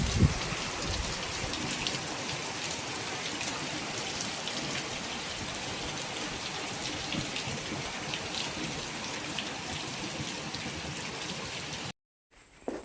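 Continuous rain falls at a home in Konkan, a dense, even hiss of drops that holds steady for about twelve seconds before cutting off abruptly near the end.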